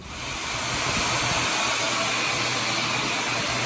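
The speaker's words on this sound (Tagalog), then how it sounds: "tinutulungan tayo ngayon ni Ellie paano mag-vacuum." A vacuum cleaner starts up and settles into a loud, steady, breathy roar and hiss, close by and continuous with no talking.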